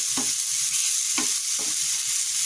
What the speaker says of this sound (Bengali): কেটে সামান্য পরিমাণে একটু তেল দিয়ে আমি মাশরুমটা ভেজে নিচ্ছি